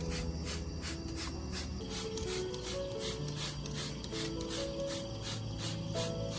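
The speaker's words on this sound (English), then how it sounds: "I also sprayed around the base and onto the potting medium to add moisture" Spraying a solution onto a wilted orchid and its potting medium, a rapid series of short, regular spritzes close by, repeated steadily over a faint background hum.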